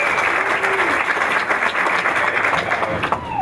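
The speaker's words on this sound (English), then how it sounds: "so give her a round of applause" Sustained applause from an audience at a Board of Education meeting, a dense, even clatter of many hands clapping that fills the room without a break.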